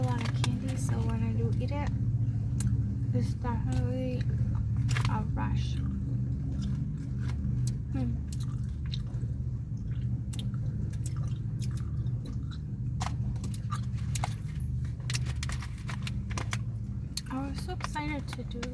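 Regular gum is chewed close to the mic with wet, smacking clicks and squishes repeating steadily for a long stretch over a low background rumble.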